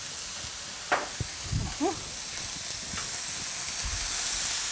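Chopped onion and bacon frying in a little oil in a pan, a steady bright sizzle throughout with a few louder crackles and scrapes of a utensil, moderately close.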